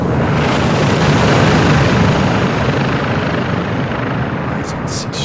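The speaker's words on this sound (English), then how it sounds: "Got a heli incoming." A helicopter in the video game Call of Duty: Modern Warfare 2 (2022) roars loud and close as it approaches, a dense steady rotor rumble filling the scene, with brief radio voices near the end.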